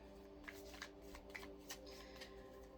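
Cards of a Moonology oracle deck being shuffled, a steady run of soft papery riffles and flicks over low room hum, close and fairly quiet, with no talking.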